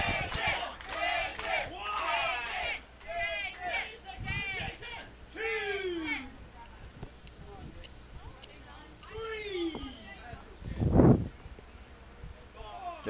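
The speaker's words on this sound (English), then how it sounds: "Soaking in the cheers." A wrestling arena crowd roars and cheers in loud, swelling waves while a commentator talks over it, with shouts rising and falling throughout.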